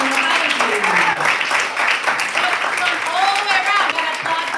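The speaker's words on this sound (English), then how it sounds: "Please make many applauses for Faisal Mohyuddin" Audience applause for poet Faisal Mohyuddin at a literary reading, dense continuous clapping with cheers and voices heard among the crowd.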